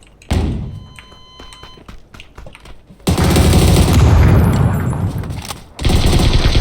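Gunfire in a tactical shooter video game: a burst of single shots and thuds, then long stretches of dense sustained automatic fire, loud and close with no talk.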